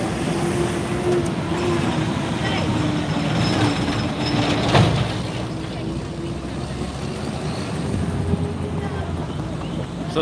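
A Dallas Area Rapid Transit train rolls past with a steady, loud rumble and a faint hum that build to a brief peak midway, with a few quiet voices nearby.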